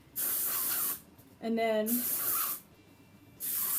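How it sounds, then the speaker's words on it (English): Amika texture spray hisses onto hair to add volume in three sharp, close bursts separated by short pauses. A voice speaks briefly between the sprays. "I'll get my Amika texture spray just for a little more volume, and I'll pick up this layer here, spray that"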